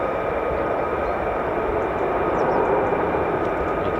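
F-35A fighter jet at RAF Lakenheath on a misty morning, a loud continuous roar of engine noise with no pauses over the whole stretch.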